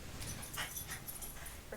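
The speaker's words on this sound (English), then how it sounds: "Dog." A dog whimpers faintly indoors, with a few soft, brief high whines over a quiet background hum.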